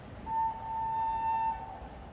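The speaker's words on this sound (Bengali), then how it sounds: "ট্রেন আসছে।" A WAP-7 electric locomotive hauling the Sealdah–Jalpaiguri Road Humsafar Express approaches at midnight, giving a steady horn tone that lasts over a second above a constant low rumble and hiss.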